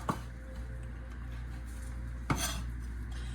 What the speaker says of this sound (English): Buddha slices the sausages in half.